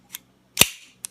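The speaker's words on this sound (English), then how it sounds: "It's a long pull though. I mean, it's a real heavy trigger pull." A Jimenez Arms JA 380 blowback pistol with a plastic trigger gives a faint click, then a sharp louder snap of the heavy trigger pull, then another small click, each short and isolated in quiet.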